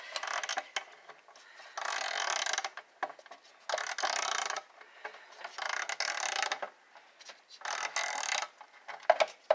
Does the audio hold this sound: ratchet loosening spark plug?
yes